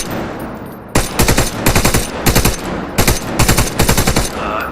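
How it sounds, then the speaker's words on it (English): Rapid automatic gunfire in the video game Wardogs, with bullets ricocheting off the edge of a container, comes in loud repeated bursts separated by short pauses. "Fire at the edge of the container and watch the bullet rebound."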